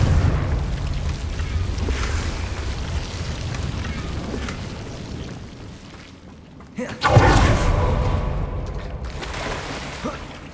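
A Confringo fire spell bursts in Hogwarts Legacy inside a cave, as a low rumbling boom that swells suddenly and then rolls on in a roaring wash over the steady hum of the game's ambience.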